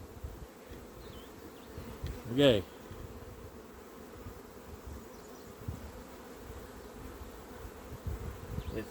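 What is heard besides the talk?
bees buzzing around a feeding patty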